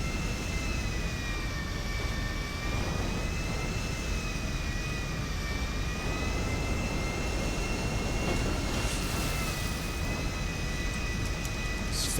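An airplane's engine in the LSPDFR flight sim video game drones loudly and steadily with a whining, rising-and-falling tone throughout, with no speech.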